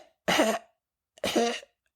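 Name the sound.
imitated cough, like the Zoolander black lung cough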